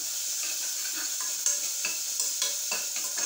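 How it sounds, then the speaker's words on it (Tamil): Onions fry in a pan while ginger garlic paste is added and stirred in. A steady sizzle runs throughout, broken by scraping stir strokes and soft clinks of the spoon on the pan. "வெங்காயம் வதங்கிட்டு இப்போ இஞ்சி பூண்டு பேஸ்ட்டு பாருங்கள், இவ்வளோ போடுறேன்."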